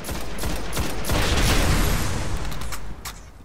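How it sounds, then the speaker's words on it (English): Sustained rapid gunfire at portals in the game Destiny, dense and loud with booming impacts, easing off toward the end. "And then you want to proceed and shoot the portals"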